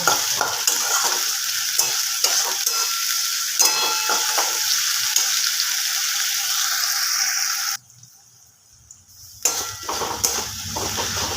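Spices for a black-pepper chicken kosha are stirred and fried in a pan, with a steady sizzle and scraping of the spoon, a brief quiet gap, then the frying resumes.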